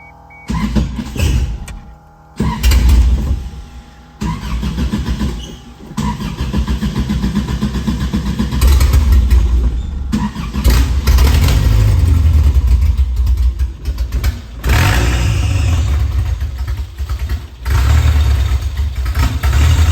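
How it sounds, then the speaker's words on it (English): A 1981 pickup engine fitted with a side-draft Weber carburetor, running with no exhaust, cranks and catches, then runs loud and rough throughout with uneven surges and brief dips, close up with no talking. "I'm just gonna see if she turns over."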